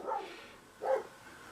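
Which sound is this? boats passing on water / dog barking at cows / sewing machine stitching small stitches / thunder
dog barking at cows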